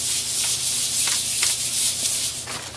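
Light scuffing of a hand or sandpaper rubbing down a glued piece of wood in a frame-making project, a soft continuous hiss with a few faint rhythmic strokes, close and alone without talk.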